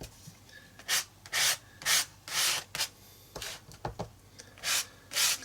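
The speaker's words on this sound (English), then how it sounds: "we can just start kind of organically scraping it down" Paint being scraped down across an art journal page, a rhythmic series of about ten rasping strokes with short pauses between them, close and fairly quiet.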